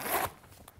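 A zipper on a The North Face Peak Guide jacket is pulled up in one quick, close rasping stroke, followed by faint handling noise.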